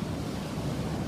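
Ocean surf rolling onto a beach, a steady broadband wash of breaking waves with some wind noise, continuous and fairly close for the whole moment, with no voices.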